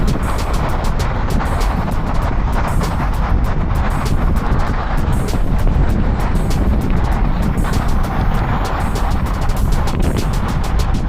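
Constant heavy wind buffets the microphone during a coastal bike ride in northern Taiwan, a loud, rumbling roar that never lets up and drowns out everything else.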